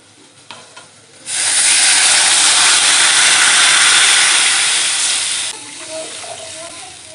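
Water poured into a hot pan of frying turmeric powder for a Bengali chela fish curry with okra bursts into a loud, steady steam hiss lasting several seconds, then dies back to a soft simmer.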